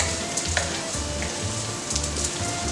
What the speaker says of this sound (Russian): И сейчас я его обжариваю вместе с нашей зажаркой.